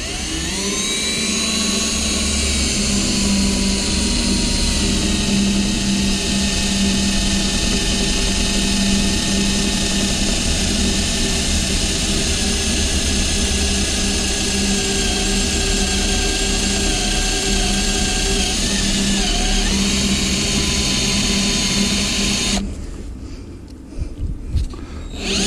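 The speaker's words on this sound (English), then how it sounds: "So we're gonna drill right there." A power drill runs loud and steady for about twenty seconds, drilling during a radiator repair on a 1977 FC33 Wanderlodge bus, then cuts off and leaves a few faint knocks.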